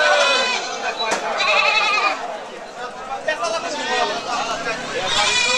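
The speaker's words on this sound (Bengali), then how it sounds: "দেখেন কত সুন্দর ছোট বড় মিক্সার করা এই ছাগলগুলো।" Black Bengal goats of mixed sizes bleat repeatedly at a busy livestock market, the loud calls overlapping with steady crowd chatter and nearby voices throughout.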